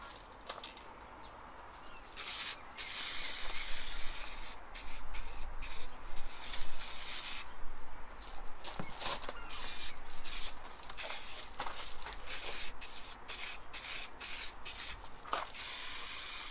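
Clear coat hisses from a spray can onto a homemade Votex-style rear spoiler for an Audi A2, in a string of short and longer bursts with brief pauses between passes, fairly close and alone.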